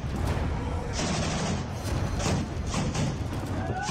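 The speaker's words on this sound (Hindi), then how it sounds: "रात के अंधेरे में हंगामे को रोकने के लिए सुरक्षा बल के जवानों ने अंधाधुंध फायरिंग की।" Security forces fire guns at night to break up a disturbance, producing a dense, continuous fusillade of overlapping cracks and thumps with no pauses.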